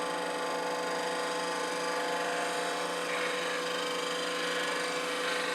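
A 1/8 inch D-Wade beading tool scrapes a bead into wood spinning on a lathe while turning a wooden owl, giving a steady, even whir and hiss with motor hum throughout, close and moderately loud.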